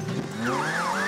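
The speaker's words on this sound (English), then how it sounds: "Another siren, but it's not a police car this time." Wailing siren of an emergency vehicle, not a police car, in a children's cartoon, rising and falling in smooth sweeps over a low engine hum, close and fairly loud for about a second.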